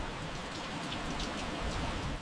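Steady rain falls over a Swiss mountain village, a dense, even hiss of drops pattering on surfaces that holds constant and close throughout with no voices.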